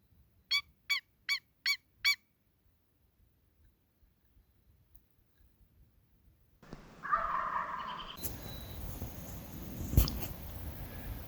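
A turkey call used on a wild turkey hunt gives five quick, evenly spaced yelps, sharp and close in quiet surroundings, followed later by rustling and louder handling noise.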